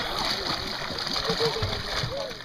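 A child swims and kicks in a pool, water splashing and sloshing steadily throughout, with an adult's voice coaching over the splashes.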